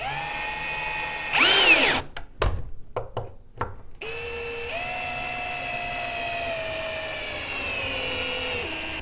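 A power drill drives screws into a clamped wooden rocker, with a short whirring burst, a few quick stuttering pulses, then a long steady run at changing speeds, close and loud.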